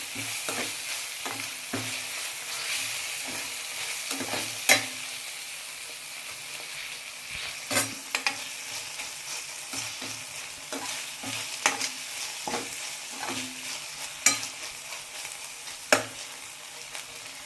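Tomatoes fry and sizzle in a pan with a steady hiss, stirred with a utensil that scrapes and clacks in irregular sharp knocks throughout, close and fairly loud, with no talking.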